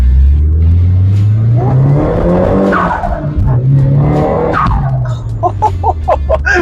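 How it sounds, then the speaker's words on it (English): A Nissan S15 pulls out of a dyno with its rear wheels spinning: a loud, close engine revs and drops while the tyres squeal, with short whirring bursts near the end. "I was definitely spinning the wheels on the back."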